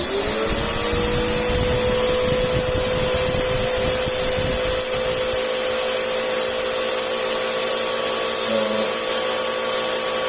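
A loud, steady high-pitched air blower at a self-service car wash roars continuously with a constant whine, its low rumble dropping away halfway through; no voices.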